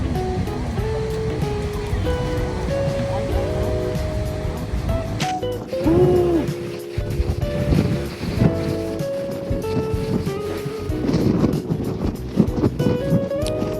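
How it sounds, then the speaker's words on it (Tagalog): Loud, gusty wind roars against the microphone over crashing surf at Patapat Bridge in Pagudpud, Philippines, with rumbling buffets and faint voices now and then. "kaya sobrang lakas ng hangin"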